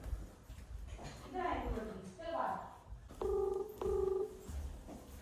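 A telephone number is dialed at home to call someone, heard as two short bursts of dual-tone keypad beeps near the end, following indoor talking.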